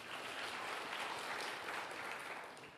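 A church congregation applauds during a sermon, giving a soft, steady wash of clapping that sounds somewhat distant and continues evenly before tapering slightly at the end.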